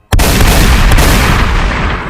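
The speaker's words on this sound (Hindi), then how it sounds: "उसने एक के बाद एक 3 गोलियां चलाईं" A loud, close gunshot blast from a revolver, with an abrupt onset, a second sharp crack just after it, and a long roaring tail that fades slowly.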